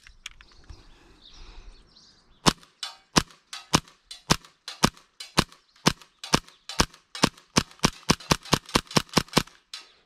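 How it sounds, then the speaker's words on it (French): A Tokyo Marui Hi-Capa 4.3 airsoft pistol, fully upgraded, fires a steady run of sharp snapping shots, each BB striking a human-bust target downrange, around twenty crisp cracks that quicken toward the end after a brief soft rustle. "je sais pas si vous entendez le bruit, ça touche à tous les coups"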